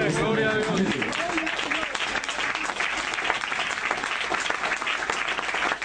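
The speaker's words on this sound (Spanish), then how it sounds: "Denle un aplauso al Señor" A church congregation applauds during a Spanish-language Old Testament ministry class, loud sustained clapping filling the room, with a brief voice at the start.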